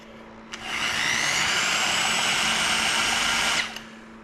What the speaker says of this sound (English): start drilling it like that